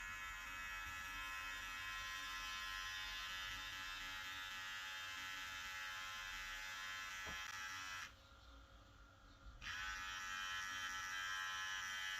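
A VGR V170 trimmer runs on test with a loud, steady high-pitched electric buzz that briefly shifts and dips before resuming at full strength.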